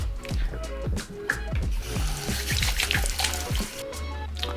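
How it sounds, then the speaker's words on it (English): Hands are washed under a running kitchen or bathroom tap, with splashing, dripping and squishy rubbing close up. The water flow is steady and a faint voice can be heard in the background. "So let's wash our hands."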